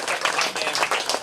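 Audience applause at a live show-and-tell event, a dense, steady wash of many hands clapping close by with no gaps.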